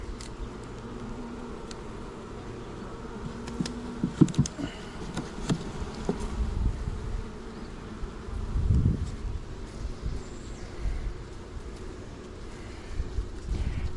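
Honey bees buzz steadily during an inspection of three hives fitted with new foundation, a close, continuous hum with light wind noise and occasional clicks and knocks from handling frames.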